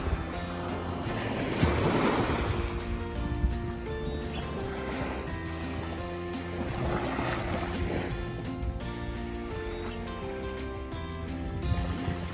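Waves wash steadily onto a hotel lagoon beach in Thailand, a continuous broad surf roar with gentle swells, heard alone and fairly close with some wind across the microphone.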